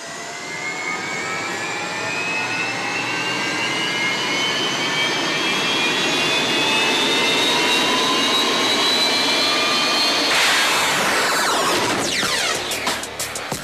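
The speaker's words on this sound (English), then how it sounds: "the boats are going down the race course" Unlimited hydroplane race boats running down the course in Heat 1A of the 2007 Thunder on the Ohio: a loud, continuous turbine-like whine with rising, sweeping tones that shifts abruptly near the end, with no talking.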